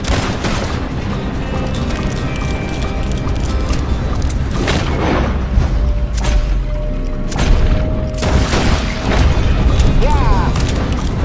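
Gunfire in the Western video game Red Dead Redemption 2, loud booming shots and bursts running continuously through a dense battle mix, with voices calling out over the action.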